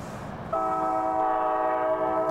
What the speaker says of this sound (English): there you can hear the train going by on the other side of the river, very near the course